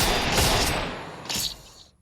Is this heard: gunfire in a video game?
yes